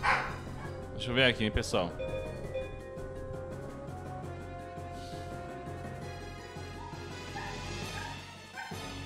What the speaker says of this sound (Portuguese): O cão quer entrar.